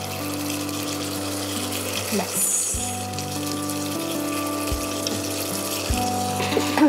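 Shrimp and pumpkin greens cook in a frying pan as ghee goes in, a steady close sizzle and hiss over a constant hum of kitchen noise, with a brief clatter midway.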